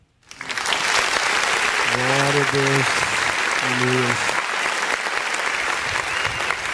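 A church congregation applauds at a worship service, the clapping swelling quickly into a thick, continuous roar that holds steady while a voice calls out briefly over it.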